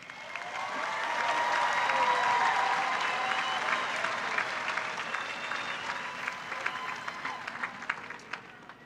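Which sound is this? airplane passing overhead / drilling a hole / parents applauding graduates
parents applauding graduates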